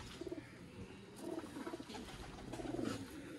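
Pigeons coo in soft, low throaty bursts, a few repeated calls rising and falling close by against a faint noisy background.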